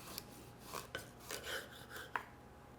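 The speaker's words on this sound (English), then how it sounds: "do have to saw a little bit to get through that tough exterior." A kitchen knife sawing through the tough exterior of a winter squash, quiet rasping strokes in an uneven rhythm with a few sharp clicks of the blade against the board.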